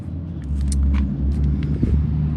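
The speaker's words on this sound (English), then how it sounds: "damn, that truck's nice, but it's loud." Loud truck rumbling past on a road near a home garage, a deep steady engine drone swelling and holding for a couple of seconds with no talk.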